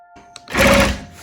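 A sewing machine quilts a wholecloth lotus flower quilt, stitching in the ditch, heard as one short, loud mechanical burst that swells and fades within about a second.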